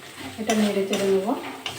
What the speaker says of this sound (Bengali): এটা নেড়ে চেড়ে নেবো।